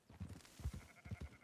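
Sheep bleat repeatedly while being herded in Red Dead Redemption 2, several short, wavering calls overlapping close by, fairly quiet.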